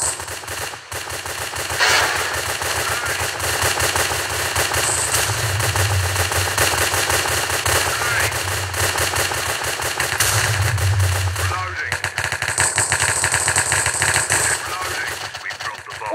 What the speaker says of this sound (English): He double shot us!